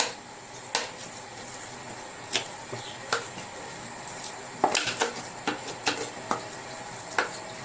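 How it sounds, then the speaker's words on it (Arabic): Chopped onion, carrots and garlic go into a cooking pot with a soft continuous hiss, broken by repeated light clinks and scrapes of a utensil against the pot at an uneven pace. "وهحط البصل والجزر والثوم."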